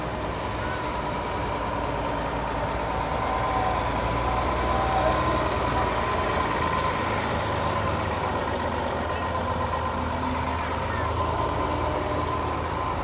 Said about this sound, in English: We also have a 1967 Oliver 1859 tractor.